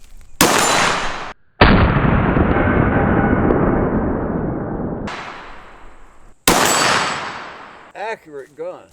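A semi-automatic gun fires four loud, sharp shots at uneven intervals outdoors, each with a long echoing decay, and a brief voice follows at the end.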